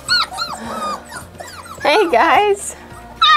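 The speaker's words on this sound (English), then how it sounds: "this is where these puppies are" Mini goldendoodle puppies whimper and yip in high, bending cries, close by and in several bursts, with a person's voice speaking briefly among them.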